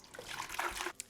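White vinegar pours from a container into a cooking pot while bread and butter pickle brine is being made, a steady liquid trickle lasting about a second, fairly close and with no talking over it.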